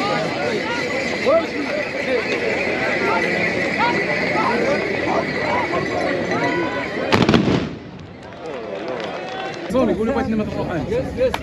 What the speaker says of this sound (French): une démonstration hippique avec des chevaux et des coups de feu